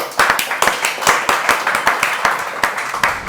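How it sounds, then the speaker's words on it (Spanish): A small studio audience claps for an interview guest, a quick run of sharp, close hand claps throughout. "Un aplauso para Rurik"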